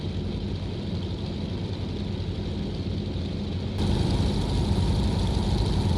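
A simulated DHC-2 de Havilland Beaver radial engine drones steadily in flight in X-Plane 11, a dense low rumble that shifts to a slightly louder, fuller tone partway through as the throttle is reduced, with no voices.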